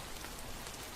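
Steady rain falls on surfaces in a rural area, a dense, even hiss of drops throughout with no voices.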